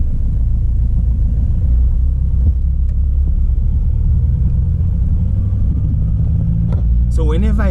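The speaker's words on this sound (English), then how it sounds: "I'll engage to gear 1, then start moving" Manual car engaging first gear and pulling away, a loud, steady engine rumble close by with low revs throughout and a brief shift in sound near the end.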